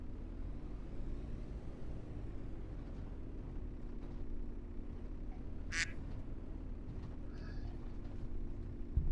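A duck in the video game Farming Simulator 25 gives a couple of short, faint quacks over a steady low engine-like hum of the game's background.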